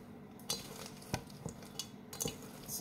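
Stirring food in a pot outdoors in wind, with a utensil clinking and scraping against the pot in several sharp, close knocks over a low, steady background rumble.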